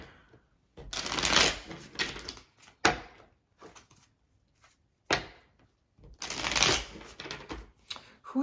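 Tarot cards being shuffled in several close, crisp riffling bursts separated by short pauses and a few soft taps, with no talking.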